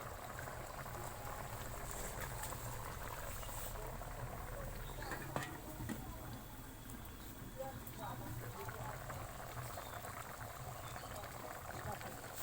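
Egg curry with raw mango and coconut milk bubbling in a pot, a steady low simmering rumble with soft popping that carries on evenly throughout, close and moderately loud, with no talk over it.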